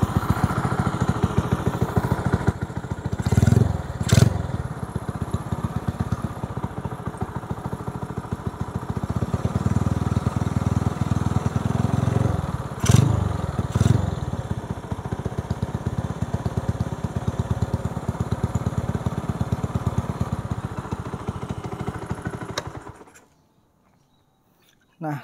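An old motorcycle starts right after washing and runs steadily at a low, throbbing idle for about twenty-three seconds, with a couple of brief revs, before cutting off abruptly.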